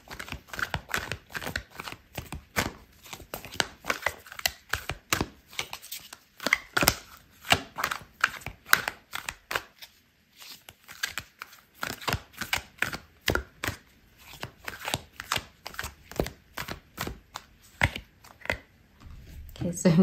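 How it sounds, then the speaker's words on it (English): Tarot cards are shuffled and drawn by hand during a reading, a long run of crisp close riffling and slapping bursts in an uneven rhythm, pausing briefly midway. "I'm going to pull out a card for your advice"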